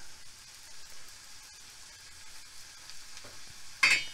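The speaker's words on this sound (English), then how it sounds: "just let this sizzle for about a minute" Leftover ribeye steak and onions sizzle and fry in a pan, a steady soft crackle with occasional stirring scrapes and a sharper burst near the end, heard alone without talk.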